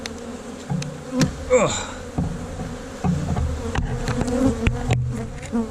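Honey bees buzz steadily around a large winter beehive in South Carolina, a dense close swarm drone with brief handling knocks and a short grunt from a person nearby.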